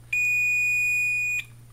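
A single small electronic beep from the buzzer of a low-cost portable intruder alarm sensor, a steady high-pitched tone lasting about a second, close and clear over a faint low hum.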